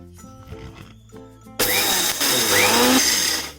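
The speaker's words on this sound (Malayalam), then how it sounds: "ഇനി നമുക്കിതൊന്ന് പൊടിച്ചെടുക്കണം. മിക്സിയുടെ പൊടിക്കുന്ന ജാർ എടുക്കണം." A mixer grinder's dry grinding jar grinds roasted rice into powder for Kerala avalose. After quiet handling noises, the motor starts abruptly and runs loud with a harsh, whining roar for about two seconds.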